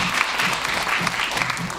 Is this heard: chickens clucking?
no